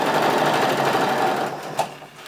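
A sewing machine running a straight stitch on clear elastic hums in a steady, close, fairly loud whir for most of the stretch, then slows and stops with a few light clicks.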